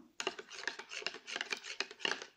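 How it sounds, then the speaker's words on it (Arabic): A yeast hair mask mixture is stirred in a bowl, giving close, quiet scraping and rasping strokes in a quick irregular rhythm, with no voices. "كما تلاحظون سأقوم بالخلط جيدا حتى لا تبقى تلك الحبيبات"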